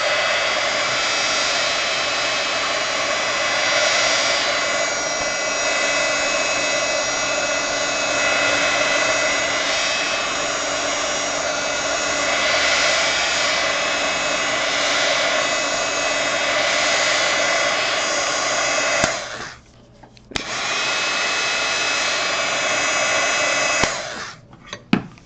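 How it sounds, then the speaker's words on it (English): A heat gun roars steadily and loudly for about nineteen seconds while drying watercolor and mixed media in a hot press journal, then cuts out briefly, restarts and stops again near the end. "heat gun is going on"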